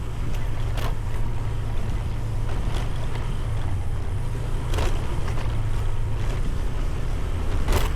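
A motorcycle engine runs steadily throughout, a continuous low rumble with wind and road noise over it and no one talking.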